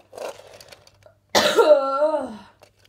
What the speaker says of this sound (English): I just got a bad cough